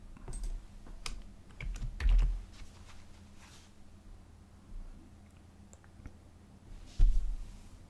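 Code typed on a computer keyboard: soft, irregular key clicks with a few louder taps in a quiet room, no voices.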